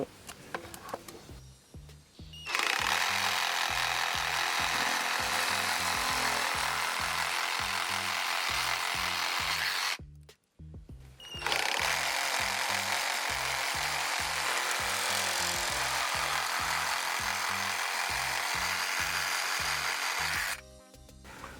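A cordless 18V reciprocating saw with a metal-cutting blade buzzes loudly in a steady rhythm, cutting through 2-inch PVC pipe in two long bursts separated by a short pause.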